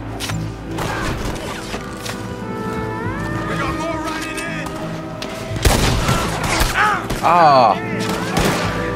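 Gunfire in the open-world western game Red Dead Redemption 2, with a few sharp shots and a heavier burst near the end, heard over in-game dialogue and ambient background sound.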